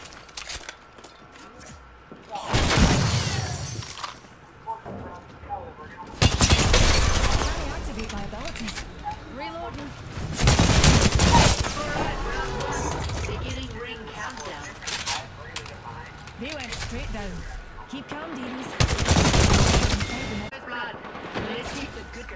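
Shots from a Mozambique shotgun in Apex Legends crack out in four loud, widely spaced bursts, each a short broadband blast, with voices talking underneath between them.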